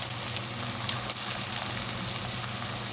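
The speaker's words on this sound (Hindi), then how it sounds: "अब मैं एक एक इस तरह कोफ्ते डालूँगी, डाल के तो मैं इसको ना हल्की आंच में फ्राई कर लूँगी।" Kaddu koftas sizzle in hot ghee in a kadhai, giving a steady, close crackling fry with small pops and no voices.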